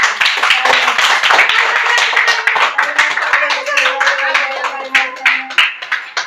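Hands clap at a family birthday celebration, a steady run of close, rapid claps that carries on throughout while voices talk and chant over it.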